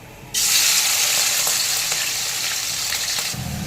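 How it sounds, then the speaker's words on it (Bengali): Prawns hit hot mustard oil in a kadai with a sudden loud, steady sizzle that crackles close up for about three seconds, then cuts off sharply. "তেল গরম হয়ে গেছে এবার চিংড়ি মাছগুলো দিয়ে ভেজে নিচ্ছি"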